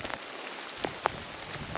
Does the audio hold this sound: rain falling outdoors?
yes